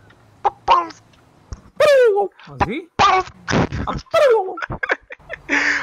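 A voice imitates a turkey gobbling in a few quick warbling bursts, mixed in among other people's lively talk.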